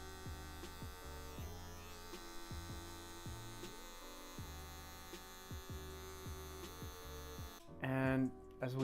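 Electric hair clippers buzz steadily while cutting a fade, with a continuous close motor hum and repeated short strokes as the blade is flicked out, briefly louder near the end.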